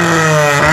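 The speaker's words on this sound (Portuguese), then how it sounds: "Dá no corte aí pra gente" A Honda Civic at a car club meet holds a loud, steady high-rev engine note bouncing against the rev limiter, close and sustained.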